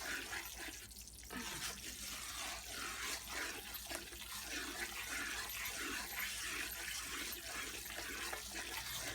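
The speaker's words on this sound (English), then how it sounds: "You can probably hear it bubbling away." Chicken mole rojo sauce bubbles and sputters in a pot, a faint, steady, hissing simmer with small pops throughout, no voices.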